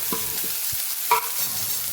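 Chopped vegetables frying in oil with asafoetida for Manchurian, a continuous close hiss with a few soft thumps and one brief scrape of stirring, no voices.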